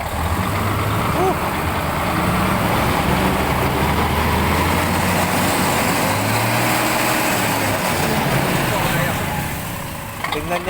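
Mitsubishi 6M70 double-EGR truck diesel engine running loud and close, a steady heavy drone that swells as it is revved, with voices faintly heard beneath.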